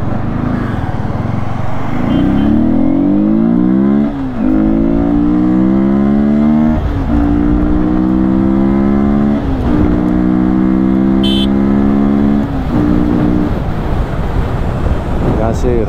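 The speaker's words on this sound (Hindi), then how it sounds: "भाई सुबह सुबह इतना ट्रैफिक हो रखा है बहुत ज़्यादा," Heavy morning road traffic, heard from a motorbike ride, with a loud continuous engine drone whose pitch rises and falls through repeated accelerations and gear changes, wind buffeting, and a brief horn-like tone near the end.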